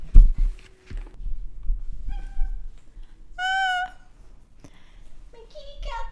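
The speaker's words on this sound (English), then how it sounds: "Oh, that's my cat." A house cat meows in a clear, drawn-out call midway through, close to the microphone, with soft household movement and a few short chirps around it.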